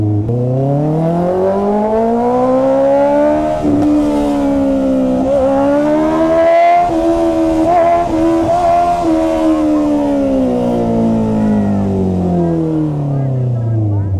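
Honda CB650R motorcycle engine revving on a city ride, the inline-four note rising and falling through long sweeping pitch changes and echoing off the surroundings, loud and close throughout.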